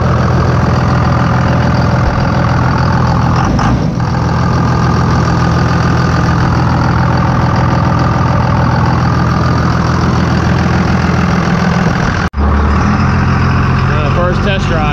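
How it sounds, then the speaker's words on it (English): A vehicle engine idles with an idle that sounds a little different than usual: a loud, steady, close rumble that runs throughout, with a brief sharp dropout near the end. "The idle sounds a little bit different than it usually does."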